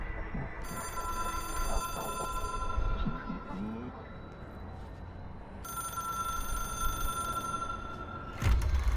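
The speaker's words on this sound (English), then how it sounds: "It is a phone." An old-style telephone bell rings in the video game Control, an object of power with no typical network. Two long bursts of ringing are separated by a pause, with footsteps and movement sounds underneath.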